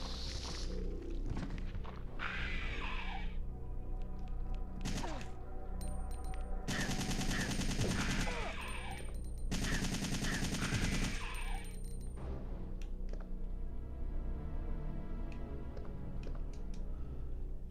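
Assault rifle gunfire in the Resident Evil 3 video game, bursts of rapid automatic fire separated by pauses, loud and dense over a steady game soundtrack, with single shots and thumps between the bursts.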